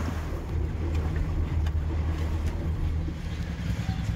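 A shanty boat motors along the water, a steady low engine hum with wash and wind noise, continuous and fairly even throughout.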